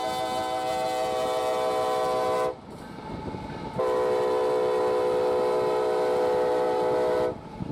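A CSX freight train hauling heritage-painted locomotives sounds its horn in two long, loud blasts separated by a short pause, with rail rumble continuing underneath.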